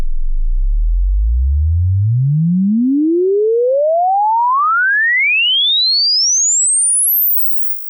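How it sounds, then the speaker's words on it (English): A pure sine wave tone sweeps steadily upward from a deep low hum to a piercing high whine over about seven seconds, loud and alone, then cuts off abruptly. "A sine wave has only one frequency."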